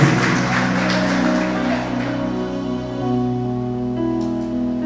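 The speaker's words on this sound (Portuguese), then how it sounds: "Aplauda o Senhor Jesus, aplauda Ele que é digno do nosso louvor e da nossa adoração" Church congregation at a worship service applauding together, dense sustained clapping fading into a lower hum of voices and tones.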